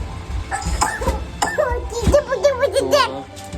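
A child coughs a few times amid a busy household, with adults and kids talking and high-pitched vocal sounds in the background.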